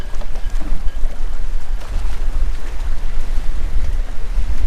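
Strong wind gusts roar steadily across a sailboat at sea, a dense, loud, low rushing that buffets without letting up for the whole stretch.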